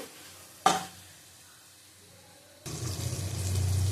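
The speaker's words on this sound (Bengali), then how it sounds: "নুন দিলাম অল্প করে ভালো করে কষিয়ে নেব" Spice masala with a little salt fries in a pan for a chicken dish, a sharp stir clatter followed by a steady close sizzle that rises and holds to the end.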